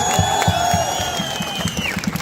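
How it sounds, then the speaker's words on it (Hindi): Crowd at an Aam Aadmi Party rally in Doda clapping in rhythmic bursts, with cheers and whoops mixed in and a sustained tonal voice or whistle riding over the noise. "इनके लिए भी एक बार जोरदार तालियां बजाइए"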